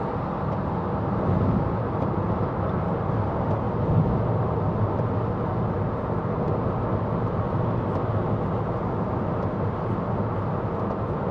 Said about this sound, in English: Car's fine, a little bit noisy.